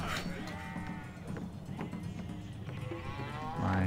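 Sheep resource bleating in Civilization V, a few low, wavering animal calls over steady game ambience and music, moderately loud throughout.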